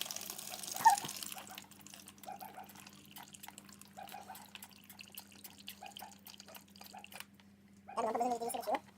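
Water leaks steadily out of a hose on an AM6 moped engine, a faint trickle and drip over a low steady hum, with a brief louder gush near the end.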